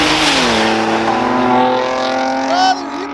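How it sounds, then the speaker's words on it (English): An RS Camaro and a twin turbo Ford Fusion race each other, their engines revving hard with rising and falling whines as they pull away close by. "now we got RS Lewis and the RS Camaro versus the twin turbo Ford Fusion"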